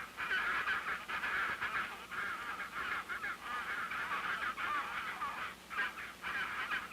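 Adelie penguins call in an Antarctic colony in an old 1956 recording, loud honking brays repeating almost continuously with brief gaps, close and dominant.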